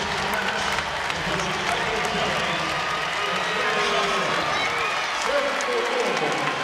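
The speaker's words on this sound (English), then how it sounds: "the crowd comes to their feet, makes some noise here" Volleyball crowd at a women's NCAA regional semifinal, Baylor versus Louisville, on its feet cheering and clapping at set point, a loud steady roar of applause and voices filling the arena throughout.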